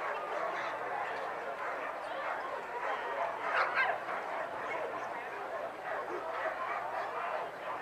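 Sled dogs barking and yelping at the Iditarod 38 starting line in 2010, a dense crowd of overlapping barks and yips filling the scene continuously, with some human voices mixed in.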